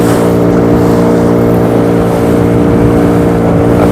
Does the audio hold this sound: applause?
no